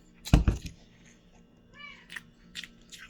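A house cat meows briefly between chewing and crunching sounds during an at-home meal, the calls short and moderately close over quiet room tone.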